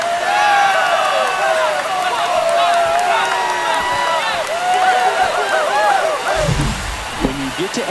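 Home crowd in a baseball stadium roaring after an extra-innings walk-off home run in MLB The Show 25, a loud sustained cheer with whistles lasting throughout, with a commentator talking over it.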